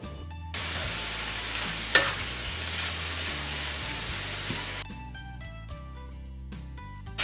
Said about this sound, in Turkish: Kıymayı biraz kavurdum.